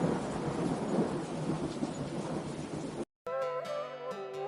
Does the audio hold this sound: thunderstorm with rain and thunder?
yes